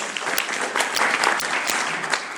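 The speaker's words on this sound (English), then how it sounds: "Yes, please clap." Steady audience applause fills a tech talk about building diabetes apps, dense and sustained clapping from a nearby crowd throughout, with no talk over it.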